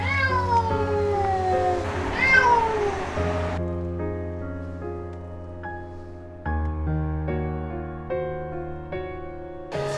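Several cats meow in a long series of wavering, pitched cries, fairly close and loud, joined by other harmonic tones, with no talking.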